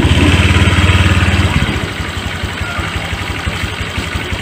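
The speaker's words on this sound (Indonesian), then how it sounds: "nyalakan mesinnya." Honda Vario 125 fuel-injected scooter engine running loudly up close, a fast revving pulse that settles into a steady, even idle chug.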